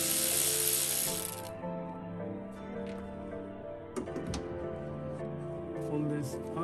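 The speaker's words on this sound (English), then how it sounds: "Unscrew this 10 millimeter bolt." A 10 millimeter bolt is loosened on a 2002 Mitsubishi Lancer during intake manifold removal, with a few close, sharp ratcheting clicks and tool noises after a burst of hiss at the start.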